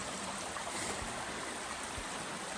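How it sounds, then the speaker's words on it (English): A small stream flows beside the Appalachian Trail near mile 581, a faint, steady babble and trickle of water with a couple of soft low thumps, like footsteps, along the way. "This morning we're following this pretty little stream."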